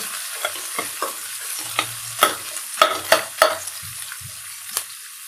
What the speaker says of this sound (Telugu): ఇది కొంచెం కలరు కొంచెం బ్రౌన్ కలర్ అయ్యే వరకు వేగనివ్వాలి